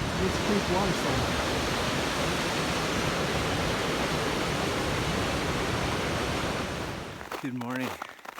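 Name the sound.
creek waterfall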